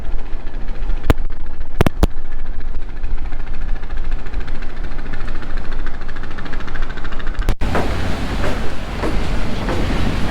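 Engine of the passenger launch MV Suvhoraj 9 on a river near Barisal, a loud, steady droning rumble throughout with a few sharp clicks, alone without talk.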